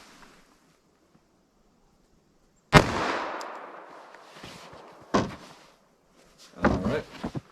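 A .45 ACP pistol with a 5.3 inch barrel, firing semi-wadcutter rounds into ballistic gel, lets out one sharp, loud shot after a quiet start, with a long decaying tail, then two more bursts of noise later.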